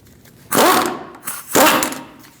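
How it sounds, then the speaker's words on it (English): An 18mm socket on a ratchet or impact tool loosens a nut on the front steering knuckle of a 2002-2006 Toyota Camry, two short loud buzzing bursts close by with a brief pause between. "Now we're going to take off this nut with an 18mm socket."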